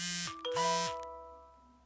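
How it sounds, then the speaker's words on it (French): A short electronic notification chime of two bright tones, the second rising and ringing out before decaying over a near-silent background. "Désolé pour la petite notification."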